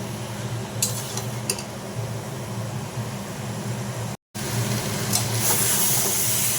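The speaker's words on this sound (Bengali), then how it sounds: "দিয়ে গরম জল ঢেলে দেবো" Hot water goes into a pan of spiced onion curry with green jackfruit (echor dopeyaja). A low bubbling simmer with a few utensil clinks is followed by a brief gap, then a louder, sustained steamy hiss and rush.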